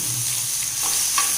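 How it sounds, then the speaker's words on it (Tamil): Fish fries in oil on a dosa griddle, giving a steady close sizzle with a faint stirring scrape near the end and no talking. "இதை வந்து நம்ம தோசைக்கல்லில் எண்ணெய் ஊற்றி பொரித்து எடுத்துடலாங்க."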